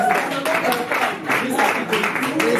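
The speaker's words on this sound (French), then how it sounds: "On applaudit." Steady applause from a crowd at a school class presentation, continuous and fairly loud, with voices mixed in underneath throughout.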